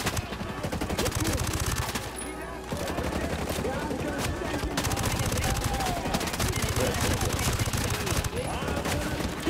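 Gunfire in Ghost Recon Breakpoint striking the player: rapid automatic bursts rattle on almost without pause in a dense, busy mix, with a brief lull near the start.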